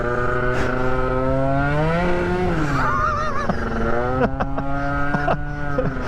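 Small moped engine on a street-legal build screams and revs high and close, pitch climbing and wavering, then dipping and surging again as the throttle is barely opened, loud and continuous throughout.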